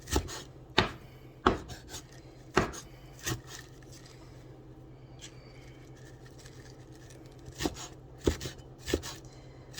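Vegetables being chopped small for spring rolls, the knife striking the board in sharp, close, uneven bursts, clustered at the start and again near the end, with quieter scraping in between.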